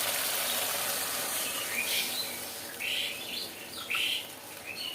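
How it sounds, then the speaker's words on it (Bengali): Small birds chirp and twitter in repeated bright bursts outdoors near a home kitchen, the calls clustering around the middle and end over a steady airy background hiss. "পাখিদের মেলা বসে গেছে সারাক্ষণ কিচির মিচির কিচির মিচির করতেই থাকে করতেই থাকে"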